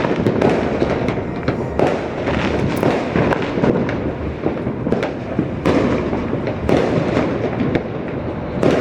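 New Year fireworks crackle and pop continuously at a distance, with a few louder bangs rising out of the dense rattle.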